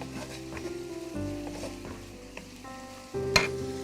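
Onions sizzling and frying in a pan for chicken fried rice, a steady soft crackle with occasional stirring scrapes and a sharp clink near the end, close and moderately quiet.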